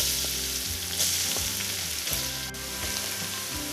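Garlic fries in two tablespoons of coconut oil, giving a dense, constant sizzle with occasional soft stirring clicks, close and fairly loud throughout.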